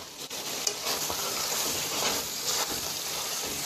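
Chopped omelette pieces are stirred into chicken jalfrezi in a hot pan, with a steady sizzling hiss and faint scraping throughout and no talking.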